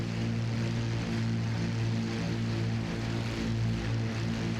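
Propeller aircraft engine in Microsoft Flight Simulator, a steady droning hum with strong low harmonics holding constant at a moderate level, throttled down for a landing approach, with no voices.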